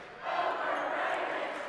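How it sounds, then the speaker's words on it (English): Basketball crowd in a school gym at a boys' tournament game swelling into a loud sustained chant, with many voices blending into a steady roar that fills the space. "overrated cheer coming out"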